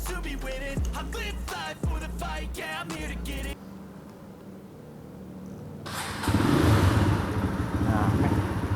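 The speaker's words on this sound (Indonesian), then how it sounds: "knalpotnya nggak mau dibuat berisik gitu, jadi kita bikinnya halus aja. Suaranya halus" A custom-built motorcycle with a quiet exhaust starts up after some talking and handling noises, then settles into a steady, fairly loud idle rumble.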